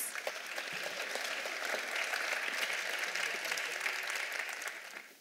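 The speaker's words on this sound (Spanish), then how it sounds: "Yo les pido un aplauso para recibir a la maestra Nolasco" A conference audience at a national tutoring gathering claps steadily to welcome a speaker, dense and even applause that holds for several seconds before tapering at the end.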